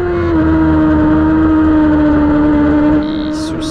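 A sport motorcycle engine in a race, holding a loud, high, steady whine close by, then dropping in pitch as it shifts or backs off near the end.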